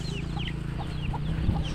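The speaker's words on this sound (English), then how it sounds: "So this hen and chicks." A hen with her chicks near a rural African homestead, clucking softly with high thin chick peeps scattered throughout, over a steady low background hum.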